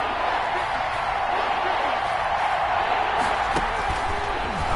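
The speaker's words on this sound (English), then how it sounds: "the crowd getting into it as we come up on a big third down" Stadium crowd noise in the Madden 21 football video game, a steady loud roar building during a Chiefs vs Chargers game ahead of a big third down, continuous throughout with faint scattered cheers.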